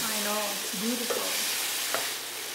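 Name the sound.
tomatoes frying with ginger and green chili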